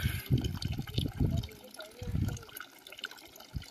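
Spring water runs in a light, gentle flow at a stop in Eravikulam National Park, Kerala, heard as soft trickling and splashing close by in uneven bursts.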